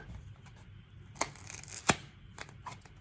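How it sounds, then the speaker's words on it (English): Scissors snip through a foam pool noodle in two close, crisp cuts about two-thirds of a second apart, the second louder, with faint rustling of the foam between them. "Now I'll make a snip."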